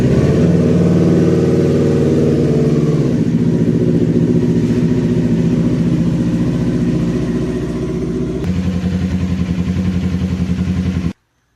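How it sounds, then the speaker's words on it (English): A Kawasaki Ninja 400 motorcycle engine fires up and runs steadily, a loud, close, continuous mechanical drone with a rhythmic throb that shifts pitch slightly partway through before cutting off abruptly, with no talking. "I'm going to get this thing started up, leave it run for about 10 minutes"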